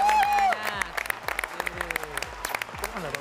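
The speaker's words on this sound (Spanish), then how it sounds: "Fuerte aplauso para Nahuel Penis" A studio crowd breaks into loud applause and cheering after a short electronic tone, with clapping continuing steadily under scattered shouts.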